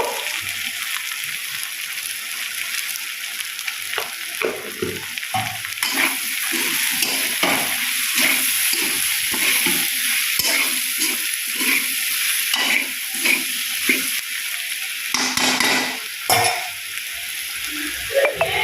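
Potato and jackfruit curry cooks in a pan with chilli, turmeric and ginger-garlic paste, giving a continuous close sizzle broken by rhythmic scraping strokes of a spatula as the spices are stirred.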